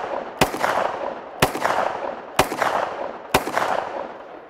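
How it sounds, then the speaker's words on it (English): Four sharp, loud 10mm pistol shots firing 155-grain Hornady XDP hollow points ring out at about one-second intervals, each followed by a decaying outdoor echo. "So let's fire off of a round of five."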